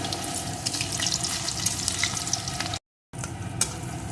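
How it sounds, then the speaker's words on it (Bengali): Potato pieces fry in hot oil with a dense, steady close sizzle and crackle that runs throughout, broken by a brief silent gap before the frying resumes. "আলুটাকে একটু ভেজে নেব"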